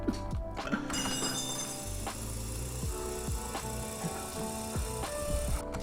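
A metal yo-yo gives off light, scattered metallic clinks and chinks over a steady hiss, moderately loud and close, with no talking.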